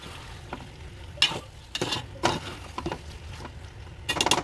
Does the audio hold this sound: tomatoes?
yes